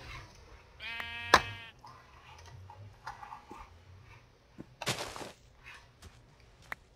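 A Minecraft sheep gives a single clear bleat, fairly close, among quiet game sounds and soft clicks.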